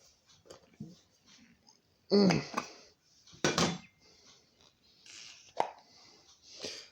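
Rocks and grit tossed into a rock tumbler barrel, with a few loud clattering, rattling impacts separated by quieter handling noises and soft talk nearby.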